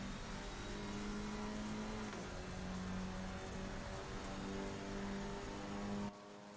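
Two race cars on a circuit at Barcelona head side by side into a corner, their engines droning loud and steady with shifting pitch as they brake and turn, then cutting off abruptly near the end.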